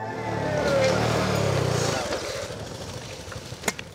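Small motorcycles, a Honda Dream and a Suzuki, race along a road in Cambodia, their engines buzzing loudly at first and then fading into the distance, with faint background noise remaining.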